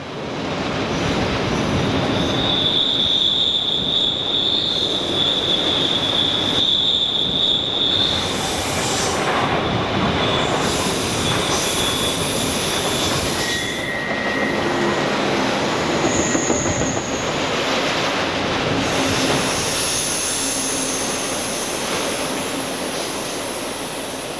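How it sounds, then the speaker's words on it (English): Norfolk Southern freight train 12N, a dedicated Daimler Chrysler train, meeting Amtrak's Pennsylvanian at South Fork, Pennsylvania; a steady loud rumble of passing railcars with high wheel squeals and horn-like tones rising and fading throughout. "we see a meet between trains 12N and Amtrak's Pennsylvanian"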